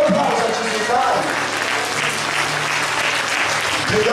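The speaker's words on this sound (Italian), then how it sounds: "Facciamo un applauso a Gesù, dai!" A church congregation breaks into steady, loud applause that fills the room for several seconds, with voices mixed into the clapping.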